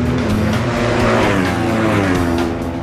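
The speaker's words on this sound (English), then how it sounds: "Hodgson rides the all-new Ducati 999" A Ducati 999 racing motorcycle screams past at speed on a race circuit, its high-revving engine loud and sustained throughout, with a dense harmonic whine that shifts in pitch as it passes.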